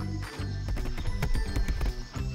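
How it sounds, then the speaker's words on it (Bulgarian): Cartoon elephant footsteps stomping loudly as a series of heavy, rhythmic thuds over a steady musical background. "Тропотът е много силен тук."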